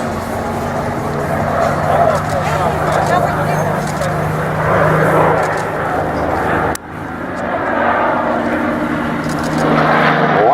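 A Corsair fighter with an 18-cylinder Pratt & Whitney R2800 radial engine flies during an airshow rehearsal in Rome, Georgia, its engine droning steadily under an announcer talking.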